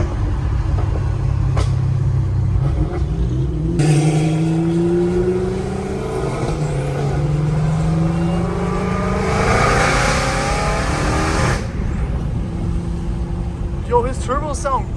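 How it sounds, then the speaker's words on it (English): A Dodge Hellcat Redeye with a fully catless exhaust and turbos revs loudly up close, its engine rising and falling in strong sweeps, while excited voices talk over it. "his turbos sound crazy"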